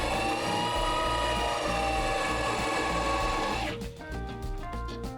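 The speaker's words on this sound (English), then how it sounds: "Ryan then prepped the hull for fiberglassing by removing the gel coat with the grinder." A grinder strips gel coat from a boat hull during a refit on Leros island, Greece, a loud sustained whining drone that cuts off abruptly near the end into lighter rhythmic clatter.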